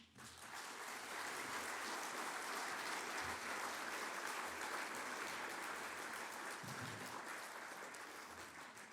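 An audience at a 2019 young alumni awards ceremony breaks into steady, full applause, a thick continuous patter of many hands that rises at once and holds evenly for about nine seconds.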